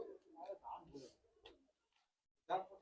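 Madrasi pigeons in a loft give soft, faint coos in a few low, throaty phrases separated by a quiet pause.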